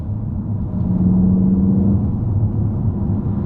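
A Peugeot 308 GTI hot hatch engine in sport mode gives a low, steady growl that swells slightly midway and holds a droning hum, heard from inside the cabin with no talk.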